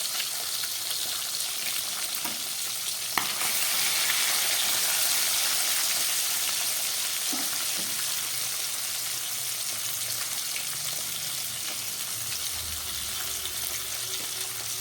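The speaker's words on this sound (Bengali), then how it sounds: "মাছের মাথাটা একটু বেশি ভাজা হচ্ছে" A catla fish head fries in hot oil, giving a steady, close crackling sizzle that holds evenly throughout with no talking.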